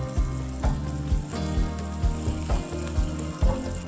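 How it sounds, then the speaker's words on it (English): Sliced onions fry in hot refined oil for a Mangalorean chana tendli sukka, a steady close sizzle broken by regular low thumps and scrapes of stirring, with no talking. "Once the oil is hot enough, I'm going to add some sliced onions. Fry until the onions turn golden brown."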